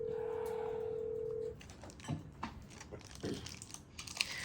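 A telephone dial tone holds steadily for a moment, then stops, followed by faint handling and crinkling noises as a phone call is placed during a committee session.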